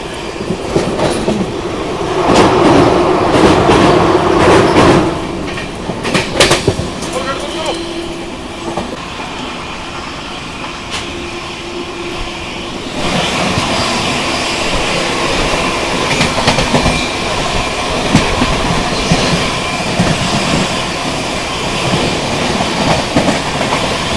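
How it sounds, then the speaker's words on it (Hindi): Inside an Indian express train, loud continuous rumbling and rhythmic clickety-clack of wheels on rail joints fill the space as another train crosses alongside, with the rush swelling and shifting midway. "सामने से किसी ट्रेन के साथ अभी क्रॉसिंग यहाँ पे हो रही है अपनी।"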